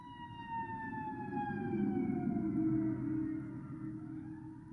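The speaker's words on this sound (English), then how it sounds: "Oh, here comes a siren." A fire engine siren wails in long falling tones as it passes at a moderate distance over a steady low rumble of traffic.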